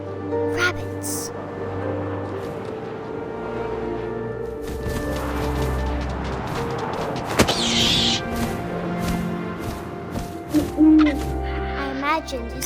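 Owl hoots sound amid wind in the video game What Remains of Edith Finch, over a steady ambient game soundscape with a narrating voice throughout and a few sharp knocks.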